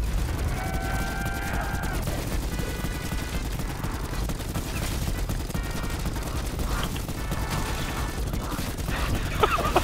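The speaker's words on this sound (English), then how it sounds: "I'm like starting to forget what the game sounds like when I'm not shooting this gun." Rapid video game gunfire crackles continuously through the scene, a dense stream of shots with brief tonal game effects layered over it and no pauses.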